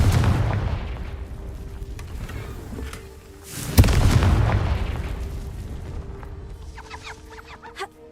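A booming fire-spell blast from the video game Hogwarts Legacy, one loud low explosion with a rumbling tail over steady game ambience, followed by a few fainter sparkling effects.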